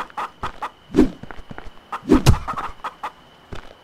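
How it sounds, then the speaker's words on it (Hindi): Chickens in the pirate survival game Last Pirate Island cluck in quick bursts, close and clear with short pauses between the calls and a soft steady hum underneath. "भाई मेरे पास खाने के लिए तो कुछ है ही नहीं मुर्गियाँ मारनी पड़ेगी यार अपने को"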